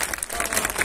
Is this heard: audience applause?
yes